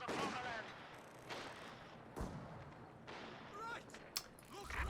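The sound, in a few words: gunfire from squads in video game Company of Heroes 2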